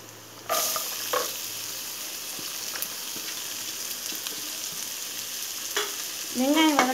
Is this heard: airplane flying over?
no